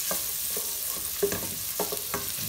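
A steady, hissing sizzle of chopped onion browning in a thread of olive oil in a pan, with occasional soft stirring scrapes near the pan and no talking.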